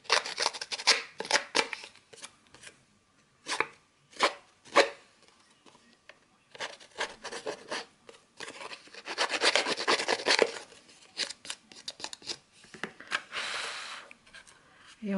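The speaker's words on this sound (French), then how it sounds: "vous utilisez les petites encoches pour user le papier" Small scissors notches rubbed against paper edges to distress them for a rose gold scrapbooking album: irregular dry rasping and scraping strokes, close up, in bursts with short pauses.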